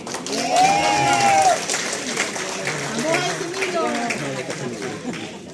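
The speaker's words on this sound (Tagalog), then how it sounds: "Palakpak" Crowd applause and cheering at a PDP Laban political rally fill the space, with voices chattering and calling out over the clapping throughout.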